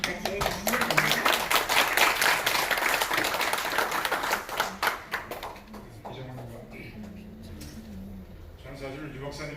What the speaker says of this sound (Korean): 큰 박수로 맞이해 주시기 바랍니다.